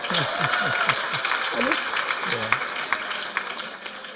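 A church congregation claps along in a fairly soft, continuous patter while a voice speaks over the applause.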